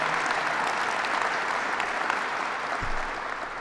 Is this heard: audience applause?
yes